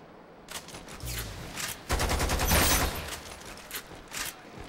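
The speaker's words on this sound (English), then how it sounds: "Stop moving, so I could shoot you." Bursts of rapid automatic gunfire from the Lost Planet 2 video game, several short volleys with one heavier sustained burst in the middle, loud and close with no talk.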